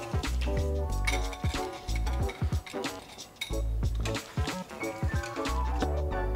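Egg yolks whisked into a cooled milk and syrup mixture for Portuguese custard tarts, heard as rapid rhythmic clinking of a whisk against a bowl in quick bursts with brief pauses, close and clear.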